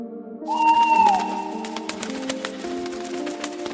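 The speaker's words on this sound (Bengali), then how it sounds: "প্যাঁচাটা উঁচা গলায় চেঁচা করে" An owl screech sound effect in a Bengali horror audio story: a single shrill, falling cry that rises abruptly and trails off within about a second, set against sustained eerie background music.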